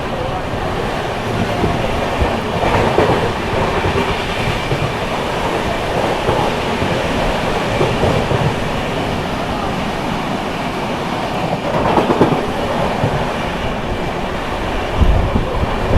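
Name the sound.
Jharkhand Sampark Kranti Express train speeding through Aligarh Junction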